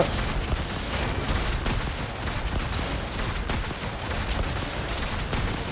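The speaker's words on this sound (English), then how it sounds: "Let's look at her work that pistol." Rapid pistol shots and slash impacts from Chlorinde in the game Genshin Impact, a dense continuous barrage of cracks and bursts layered with effects, loud and sustained with no pauses.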